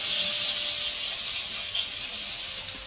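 Chopped onions hitting hot ghee with cumin seeds, a loud, even hiss of sizzling that fades slightly toward the end, heard close and without talk.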